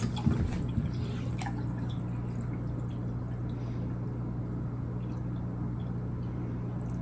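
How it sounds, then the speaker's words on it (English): A steady low pump hum in a water-cooled i9-14900KS PC, with coolant trickling and bubbling through the tubing, a few soft drips early and then an even, continuous flow. "I've got the pump running"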